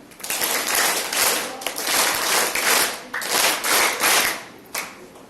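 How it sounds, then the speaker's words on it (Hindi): A group claps together at a yoga session at a girls' school in Keshav Nagar, loud and close, in uneven swelling waves of applause lasting several seconds. "सबके लिए ताली बजाएं"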